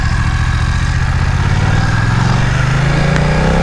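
A 2020 BMW F900R motorcycle engine pulling away while riding, loud and close with a constant low drone and a pitch that climbs steadily toward the end, with wind noise and no talk.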